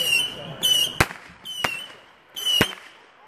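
Fireworks at a campground show go off three times in quick succession, each a rising whistle ending in a sharp, close bang.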